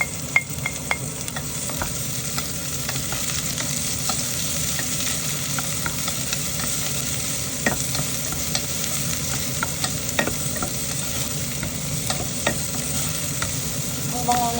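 Garlic frying in a pan for chicken tinola gives a continuous bright sizzle with frequent sharp crackles and spatula scrapes, close and steady throughout.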